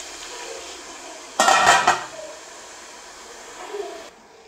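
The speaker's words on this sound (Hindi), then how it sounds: "अब हम इसको 3 से 4 मिनट के लिए कवर कर लेंगे।" A lid set onto a cooking pot of chicken biryani, a single short metallic clatter with a brief rattle, close up, over a quiet kitchen hiss.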